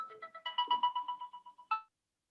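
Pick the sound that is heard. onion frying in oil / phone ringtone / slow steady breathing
phone ringtone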